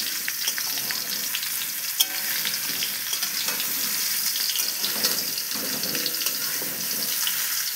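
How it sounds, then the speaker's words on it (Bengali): Raw mango pieces cook over medium heat, a dense, even sizzle with frequent soft scraping as they are stirred around the pan, steady throughout. "সব আমগুলোকে দিয়ে দেব। দিয়ে নাড়তে থাকবো হালকা আঁচে, মাঝারি আঁচে নাড়তে থাকবো।"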